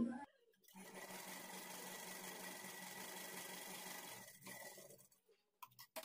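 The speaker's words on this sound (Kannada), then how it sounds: "ಈ ಕಡೆ ಎಡ್ಜ್ಗೂ ಸಹ ಒಂದು ಸ್ಟಿಚ್ ಹಾಕೊಳ್ಳಿ" A sewing machine stitches along the edge of a blouse in one continuous, steady run lasting about four seconds. It is close but fairly quiet and is followed by a few light handling knocks and clicks.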